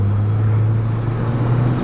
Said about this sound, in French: on va passer un tunnel, ça va faire du bruit.